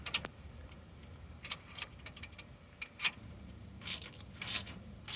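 A wrench tightens the bolt on a U-bolt during a RoadActive suspension install on a Toyota Tacoma, giving scattered sharp metallic clicks and short ratcheting bursts, close and fairly quiet, with no talking.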